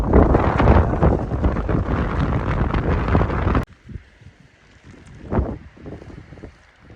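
Strong wind during rain and hail at the Güvemli village highland pasture near Torul, Gümüşhane, buffets the microphone with a rough, roaring rush for several seconds, then drops abruptly to a quieter gusty backdrop with occasional bursts.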